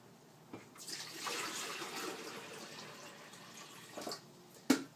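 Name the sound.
pouring water into coffee maker reservoir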